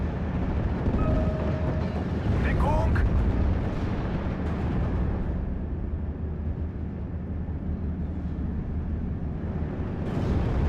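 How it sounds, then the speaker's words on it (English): A StuG assault gun fires on a mortar position in the WWII strategy game Steel Division: Normandy 44, heard as heavy, rumbling blasts that merge into a continuous loud battle din with some voice over it. "now Betts' Stug is in play, so he can use that to fire at the mortar there"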